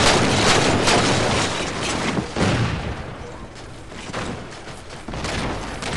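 Grenades blow up in the video game Halo 4 amid busy gunfire, several broad blasts landing at irregular intervals over a constant wash of battle noise.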